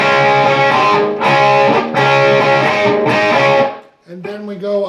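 Distorted electric guitar playing a song: three sustained, overdriven chord-and-lick phrases with slides, a brief pause, then another phrase starting, loud and without talk.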